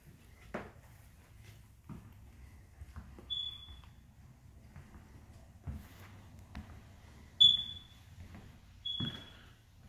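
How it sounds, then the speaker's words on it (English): Three short, high electronic low-battery chirps from a smoke detector sound at intervals among faint clicks and soft thumps in a quiet room of a single-section manufactured home. "need some batteries and the smoke detectors. Sorry for the chirps."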